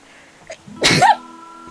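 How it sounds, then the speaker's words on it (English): A single close, loud sneeze from a person, briefly preceded by a faint intake, heard over a quiet background of soft game music. "I'm gonna sneeze."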